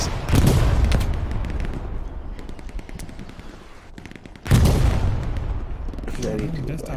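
Loud bursts of gunfire and booming artillery explosions in the World War II shooter Hell Let Loose, two heavy blasts a few seconds apart with rattling fire between, while someone talks over the battle.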